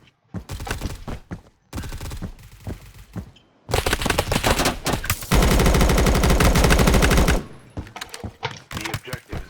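Video game gunfire rings out close and loud: short separated bursts of shots, then a long sustained automatic volley, followed by more scattered shots.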